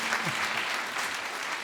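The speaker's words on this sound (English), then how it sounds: "this generous audience would want to applaud for her" An audience at an awards ceremony fills the hall with dense, steady applause, loud and sustained from start to finish, with no voices rising above the clapping.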